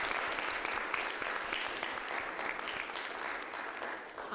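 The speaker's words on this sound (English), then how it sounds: "So I just want to give a round of applause to Gertrud." Sustained applause from an audience at a law school consultation event, many hands clapping in a dense, even wash that eases slightly toward the end.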